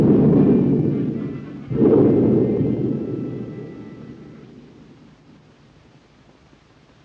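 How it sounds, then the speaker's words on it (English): Heavy storm thunder rolls loud and close, one long rumble swelling again after a short dip, then fading slowly to near silence over several seconds. "Be a storm."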